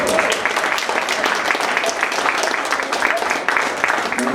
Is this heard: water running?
no